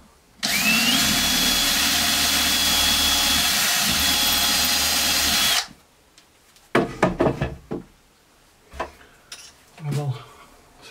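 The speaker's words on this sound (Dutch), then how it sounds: "En dat boor ik even voor." A power drill whines steadily for about five seconds, loud and close, drilling a pilot hole in a wooden shelf, then stops, followed by a few knocks and handling clatter.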